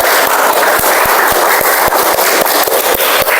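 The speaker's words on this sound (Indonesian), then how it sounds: "Tepuk tangan untuk Arifin." A classroom full of students claps for a classmate, dense steady clapping with sharp individual claps standing out at a fairly even pace, loud and sustained throughout with no talking.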